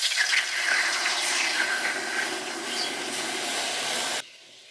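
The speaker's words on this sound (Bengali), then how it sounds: "প্রথমে আমি জল দিয়ে দেবো কড়াইতে" Water pours into a wok before sugar goes in for a sweet pickle syrup, a steady, close splashing hiss that runs several seconds and stops abruptly, leaving a faint room tone.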